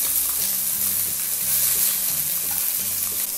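Turkey pieces browning in a hot pan for a Polish turkey in horseradish sauce, making a loud, continuous close sizzle with occasional stirring scrapes.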